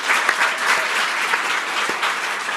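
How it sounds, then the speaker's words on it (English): A comedy show audience gives a round of applause for the sign interpreters in a steady wash of clapping from many hands, with a few sharper claps standing out. "can we have a round of applause for our sign interpreters"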